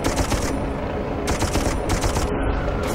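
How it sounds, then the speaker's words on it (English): A mounted machine gun in the Darkest of Days video game fires loud, rapid bursts of rattling shots, close and sharp, broken by brief pauses between bursts. "She got the mounted gun."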